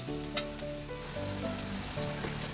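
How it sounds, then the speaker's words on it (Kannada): Ginger garlic paste hits hot oil in a pan of fish tawa fry masala, giving a continuous bright sizzle with a quick stirring scrape near the start, close and unbroken by voices. "ಅರ್ಧ ಸ್ಪೂನ್ ಶುಂಠಿ ಬೆಳ್ಳುಳ್ಳಿ ಪೇಸ್ಟ್ ಹಾಕ್ಕೊತಾ ಇದ್ದೀನಿ"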